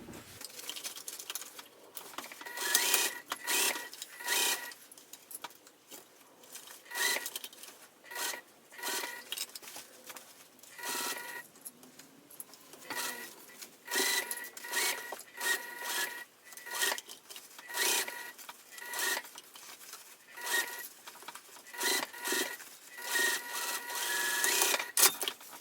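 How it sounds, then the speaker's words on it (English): A sewing machine stitches around the top of a fabric crossbody bag, a steady rapid mechanical patter running nearly continuously with brief pauses, close up and alone. "all we're going to do is sew around the top"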